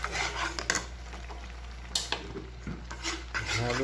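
Melted white chocolate stirred with cocoa and coconut milk in a pot, a spoon scraping and clinking in irregular strokes over a steady low hum, no talk.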